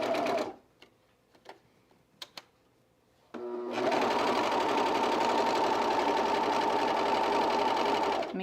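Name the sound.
sewing machine stitching a T-shirt ruffle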